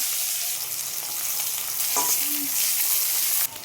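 Chopped onion, two dry red chillies, whole cumin and bay leaf fry in oil in a kadai for lemon chicken, producing a continuous close hiss broken by a few spoon scrapes.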